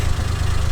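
Nissan Skyline engine running at a low, steady idle, a close, deep rumble heard briefly on its own.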